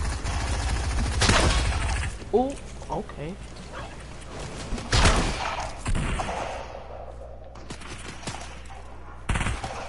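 Gunfire crackles in the video game Fortnite, several sharp loud shots and short bursts spread across the moment, mixed with clanking game effects while a player talks and reacts.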